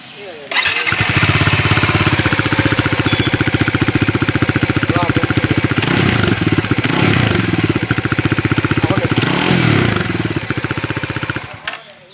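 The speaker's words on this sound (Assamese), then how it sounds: "এতিয়া আপোনালোকক ইয়াৰ এক্সজষ্ট নোটটো এবাৰ শুনাই" A Bajaj Dominar 400 motorcycle fires up and settles into a loud, close, throbbing single-cylinder idle with a couple of throttle blips before it shuts off, and speech is faint beneath it.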